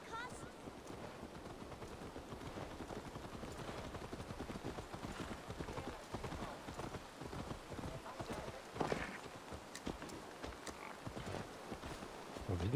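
Horse hooves clip-clop in a steady rapid rhythm throughout in Assassin's Creed Valhalla, with faint background noise and no clear speech.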